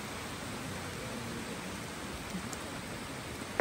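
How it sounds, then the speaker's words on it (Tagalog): Dense, steady hiss of heavy rainfall, constant and enveloping, with a few faint drips and knocks nearby. "Grabe guys, sobrang lakas ng ulan."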